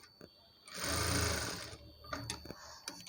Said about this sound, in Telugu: దీనిపైన ఒక టాప్ స్టిచ్ వేయాలండి